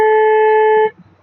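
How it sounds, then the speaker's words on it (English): Truck electric city horn sounding once, a loud steady electronic tone held for nearly a second and then cutting off abruptly into quiet cab noise. "electric for city"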